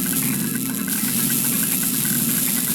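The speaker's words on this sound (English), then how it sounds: "The machine spluttered like an engine starved of fuel." A machine in the Broken Sword 3: The Sleeping Dragon game sputters and rumbles like a fuel-starved engine, a steady, loud, close idling drone with uneven knocking pulses throughout.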